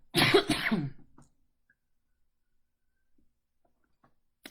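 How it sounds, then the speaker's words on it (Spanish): A single throaty cough with a rasping clear of the throat, close and loud, followed by near silence with a couple of faint ticks. "No fue tos de coronavirus"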